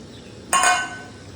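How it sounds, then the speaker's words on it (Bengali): Fish poured all at once into a simmering fish jhal curry pan, making one short clattering splash that fades within half a second in a quiet kitchen. "মাছগুলো একবারে ঢেলেই দিই"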